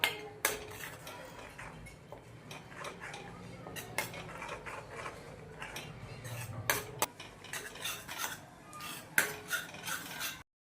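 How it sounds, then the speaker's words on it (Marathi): Milk powder stirred into boiled milk in a wok: a metal spoon clinks and scrapes against the pan in quick irregular strokes, soft and close, without voices. "आपण ते एकत्र करून मिक्स करून घेऊया"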